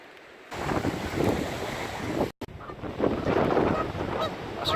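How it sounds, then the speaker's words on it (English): A goose on a farm near sheep, honking amid steady loud wind buffeting, with a brief dropout midway. "That's a goose."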